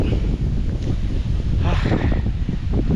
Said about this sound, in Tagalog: yung hangin dyan galing malakas papunta dun sa bahay